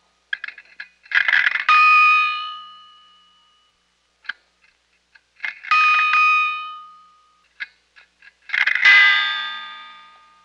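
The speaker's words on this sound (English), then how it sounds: "recording the sounds of the coins going into the phone, the kinds that had the metal gongs that would be hit" Coins drop into an old payphone and strike its metal gongs, giving three separate bursts of bright ringing clangs, each with a quick rattle at the start and a decaying chime, set apart by quiet gaps.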